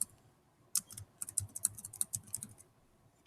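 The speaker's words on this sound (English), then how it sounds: "and I just type it in" A computer keyboard is typed on nearby in quick, uneven bursts of light clicking keystrokes, with short pauses between groups and no talking.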